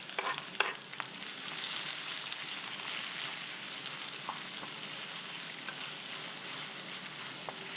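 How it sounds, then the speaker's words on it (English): Mushrooms sautéing in a pan for Senegalese mafe stew: a steady, close sizzle with occasional utensil clicks early on, continuing evenly throughout with no talking. "Let's saute these until they're soft."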